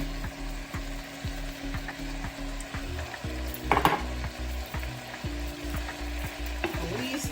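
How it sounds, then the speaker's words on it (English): About two pounds of crab coated in curry frying with onions, a close continuous sizzle under a low hum, with a brief utensil clatter partway through. "now she coats the crab, which is about 2 pounds worth of crab, with the lovely curry"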